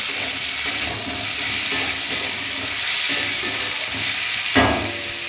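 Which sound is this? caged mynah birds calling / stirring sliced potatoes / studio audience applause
stirring sliced potatoes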